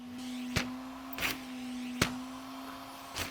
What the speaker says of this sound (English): we are in low speed, but that is one quiet vacuum cleaner.